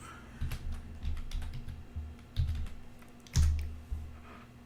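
Keystrokes on a computer keyboard come in short irregular bursts of clicks, close and fairly quiet, with a heavier clack near the end and no voices.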